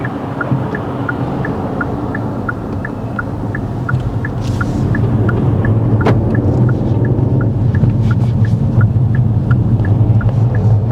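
A manual car's engine idles after a restart during a learner driving test. It makes a low, steady rumble inside the cabin, with a regular ticking indicator over it and no talk.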